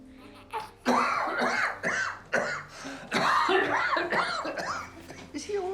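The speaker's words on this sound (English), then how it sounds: "He's had that cough since our second date" A series of harsh, repeated coughs bursts out in quick succession, loud and close, with some throat noise between them.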